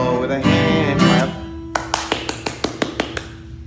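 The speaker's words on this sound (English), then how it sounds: "I'll start it all with a hand clap" A sung line gives way to a run of about eight sharp, evenly spaced hand claps at a children's morning-greeting song during a creative arts session, crisp and close.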